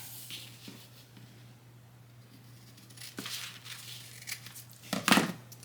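Scissors snip and crinkle through a paper sewing pattern for a hair towel, with faint intermittent rustling building to louder crisp cuts and paper handling near the end.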